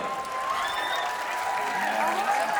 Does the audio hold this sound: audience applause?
yes